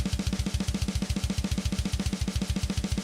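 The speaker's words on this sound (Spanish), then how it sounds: "están los blast beats, que es difícil de explicar, pero suena así" Extremely fast, relentless death metal blast beat drumming hammers in an even rapid pulse, kick and snare alternating with a constant wash of cymbals, loud and alone.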